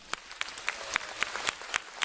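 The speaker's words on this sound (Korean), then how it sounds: "경상남도 김종선 장학사님을 힘찬 박수로 맞이하겠습니다" An audience claps to welcome a speaker at an education talk concert, heard as distinct, fairly close hand claps in a loose, slightly uneven rhythm.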